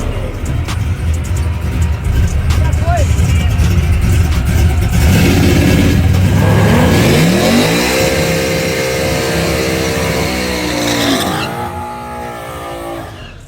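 Drag race of a Mustang against a nitrous G-body: loud roaring engines rev hard and then scream down the strip with rising gear pulls, fading as the cars pull away, no talk.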